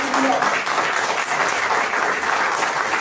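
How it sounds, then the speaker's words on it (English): Audience at the launch of the Air Cargo Forum of India Goa chapter breaks into loud, steady applause, a dense sustained wash of many hands clapping close by throughout. "May I have a huge round of applause for the ACFI Goa chapter"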